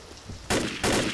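Two loud gunshots from a video game, close and sharp, each followed by a brief decay, spaced about a third of a second apart.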